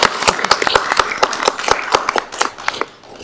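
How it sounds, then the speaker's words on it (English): Audience applause at a school board of education meeting, a few dozen hands clapping steadily and close by for a little over three seconds, sharp uneven claps that thin out toward the end with no talking over them. "we're going to clap for Jeff tonight"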